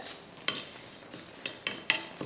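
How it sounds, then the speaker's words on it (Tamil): Curry leaves frying crisp in a pan with roasted chillies, coriander and cumin for curry masala, giving a low sizzle broken by several sharp scraping stirs of a spoon against the metal. "கருவேப்பிலையும் பார்த்தீங்கன்னா நல்லா மொறு மொறுன்னு வறுத்துக்கணும்"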